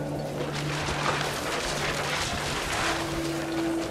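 Strong wind blows in the video game What Remains of Edith Finch, a dense, roaring rush that swells and gusts over a low steady drone.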